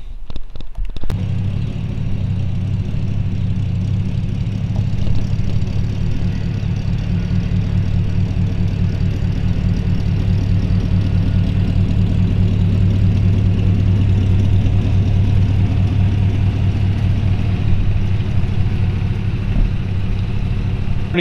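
A custom 1954 Chevrolet 210 coupe running a Chevy 350 crate engine with a 600 CFM four-barrel carburetor, idling in a steady, loud low rumble that holds constant throughout with no talk.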